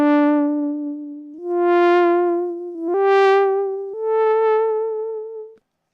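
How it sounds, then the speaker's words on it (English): Reason Thor software synthesizer played through a wind controller, four sustained harmonic notes stepping upward with gentle pitch-bend vibrato wobbles, clean and close with smooth swells, no talking. "Now my pitch bend for my vibrato sounds like this."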